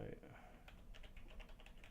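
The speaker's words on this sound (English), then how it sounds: "we'll zoom in and we'll start typing here" Keyboard typing at a computer while working in Euro Truck Simulator 2 skin editing software, a quick run of close, light key clicks with some low background noise underneath.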